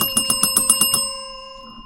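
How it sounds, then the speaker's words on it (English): A small bell rung rapidly about eight times in a quick even trill, bright and near, then left to ring out and fade. "We have a bell."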